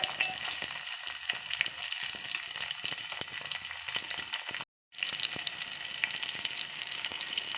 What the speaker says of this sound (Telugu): పచ్చిమిర్చి వేగుతున్నాయండి